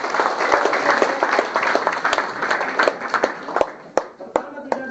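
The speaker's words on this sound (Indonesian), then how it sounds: "Tepuk tangan dong." An audience at a talk on the Indonesian economy claps in a burst of applause that thins out into scattered individual claps toward the end, with some voices underneath.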